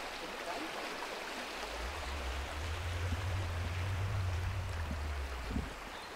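A river rushing steadily at full flow, a broad continuous wash of water close by, with a low engine-like rumble rising underneath partway through.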